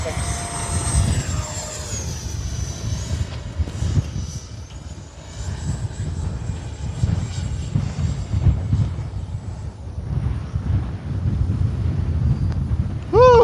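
A Flyfans L-39 64mm electric ducted-fan RC jet in olive camo flying on a windy day, its steady high-pitched whine sustained and loud with wind buffeting the microphone, the pitch falling slightly as it passes.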